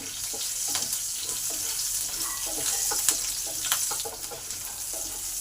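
Broken dried chillies sizzle in a little hot oil with bay leaf and a pinch of black cumin, a steady close crackle and hiss with scattered small pops and no talk.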